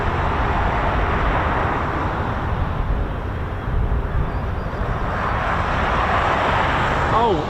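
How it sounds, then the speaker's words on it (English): A vintage B-17 bomber, Rosie's Riveters, passes near an RAF Mildenhall runway as a loud, steady broadband engine roar holding for several seconds, with voices talking underneath. "Oh man, that's Rosenthal's B-17."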